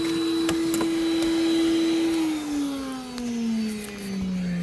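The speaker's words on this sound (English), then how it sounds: "Oh, this vacuum is crap." A vacuum cleaner runs loud and close while the interior of a 1977 Pontiac Trans Am is cleaned, giving a steady motor whine whose pitch slowly sags, with faint knocks from the nozzle and no talking.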